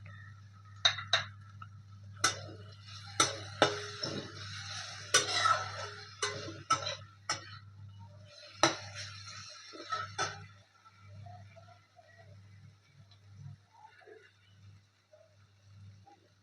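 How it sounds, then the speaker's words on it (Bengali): Grated coconut is mixed into mung dal in a pan, giving scattered sharp clinks and taps of a spoon against the pan over a low steady hum, busier at first and then sparser. "এবারে এই নারকেলটা এর সাথে মিশিয়ে দেব।"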